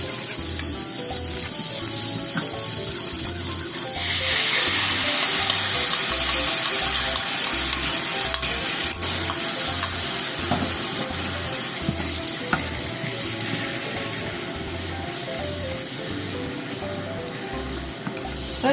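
Miso being stirred into butterbur shoots in a pan, with a loud, steady sizzle and bubbling and a rhythmic low thumping of stirring throughout, close and continuous.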